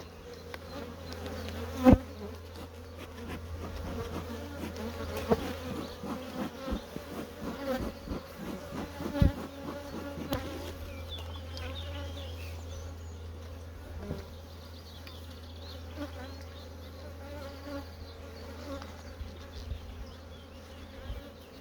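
Honey bees swarm around an opened beehive, making a steady, dense buzz close by with occasional light knocks and clicks from handling the hive.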